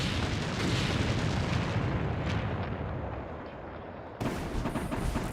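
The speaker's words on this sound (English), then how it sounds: "The blast ignites the remaining stockpile of ordnance. The most powerful explosion is audible up to 120 miles away." An ordnance stockpile detonates in a powerful explosion heard as a sustained, rumbling roar that fades slightly, then a sudden renewed burst near the end.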